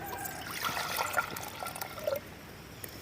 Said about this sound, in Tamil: போதுமான தண்ணி ஊற்றிக்கலாம்.